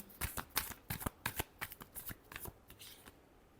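A deck of tarot cards is shuffled by hand close up, a quick series of soft riffling flutters and slaps coming in uneven bursts that fade toward the end, quiet and alone.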